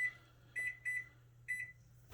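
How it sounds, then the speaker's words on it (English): A kitchen timer beeps in three short bursts at fairly regular intervals, close and clear over a low steady hum from a stovetop where fudge is beginning to boil. "So I'm going to set my kitchen timer for 11 minutes."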